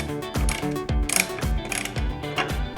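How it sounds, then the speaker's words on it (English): REED L4-in-1 ratchet tool tightening nuts on a PVC/PE drilling machine setup, a close, loud run of rhythmic ratcheting clicks repeating about twice per second. "Today we're going to use REED's L4-in-1 to tighten the nuts"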